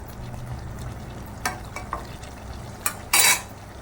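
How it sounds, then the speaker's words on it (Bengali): Mustard oil poured over a simmering katla fish curry in mustard-poppy sauce, a low bubbling base with a few faint clinks, then a short loud sizzle burst near the end. "এবার একটু ওপর দিয়ে সর্ষের তেল দিয়ে দেবো।"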